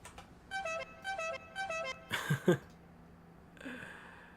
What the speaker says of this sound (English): somebody's honking their horn